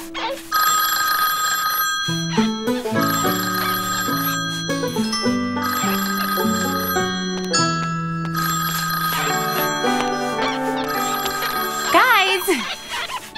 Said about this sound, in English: You guys, the telephone is ringing.